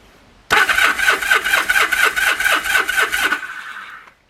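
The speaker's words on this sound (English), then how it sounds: "Hit the starter." A motorcycle engine cranks on its electric starter, a close, loud, rhythmic churning that runs steadily for about three seconds before cutting off abruptly, with no voices.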